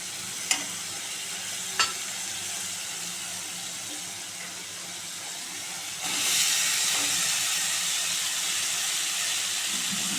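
Taro stolons tipped into a pan of fried spice paste, two sharp clinks of a utensil early, then a steady sizzle that swells into louder hissing frying as the stolons hit the hot oil and are stirred.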